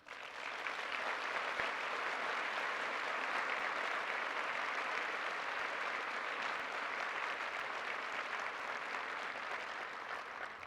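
Long, steady applause from a large audience after a president's address at a national pediatrics conference, filling the space evenly and at a distance for about ten seconds.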